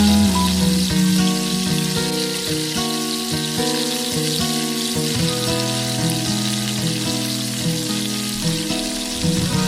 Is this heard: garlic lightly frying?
yes